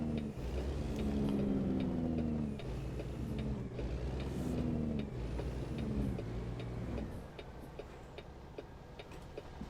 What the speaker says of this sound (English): Where the hell did all these cars come from?